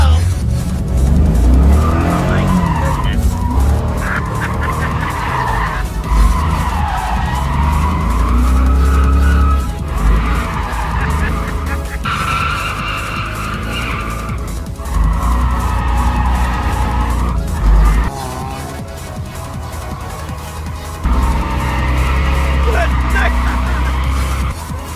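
A C5 Corvette with mismatched body panels drifts hard, its loud engine roaring and revving while the tires screech and skid continuously across the full stretch, with brief dips between slides.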